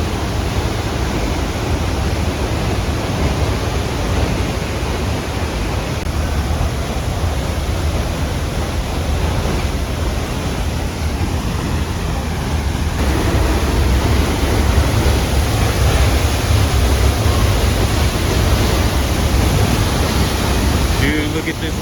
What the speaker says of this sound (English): Dude, look at this waterfall.